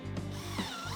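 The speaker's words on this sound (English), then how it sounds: "attach each slat with 2 screws to each board" A power drill drives a screw into a picnic table bench slat, with a steady motor whine and slight changes in pitch during a short, close burst.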